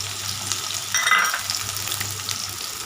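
A single large chopped onion frying in a pan while cooking appalam poo kootu, giving a steady, close sizzle with a brief louder crackle as it is stirred, alone without talk.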